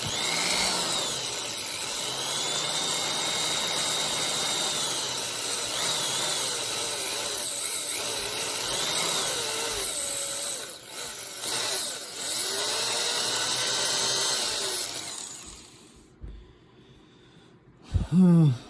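A power drill bores a hole at close range while replacing a sway bar on a Polaris RZR 800, whirring steadily, its motor pitch wavering, before cutting out near the end, followed by a couple of clunks.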